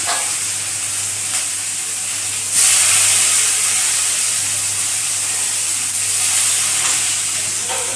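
Chopped onions with a few bay leaves fry in hot oil in a pan, giving a steady, close sizzle and hiss that swells briefly partway through.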